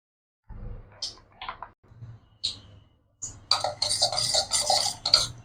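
Thin batter being stirred in a bowl for vegetable chops, a spoon clinking and scraping against the bowl in short bursts, then a busier run of rapid close clinks, with no talking.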